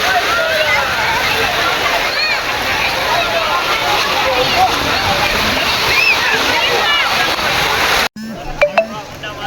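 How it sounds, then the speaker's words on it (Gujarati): Steady splashing and sloshing of sea water at Nagoa Beach, Diu, with voices calling out over it, continuous and close, then a sudden cut to quieter sounds at the end. "પાણી ઉડાડવાનું ચાલુ કરી દીધું"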